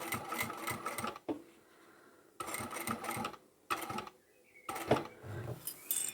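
A sewing machine stitches quilt binding in loud, rapid bursts of a second or so each, broken by short quiet pauses while the fabric is repositioned.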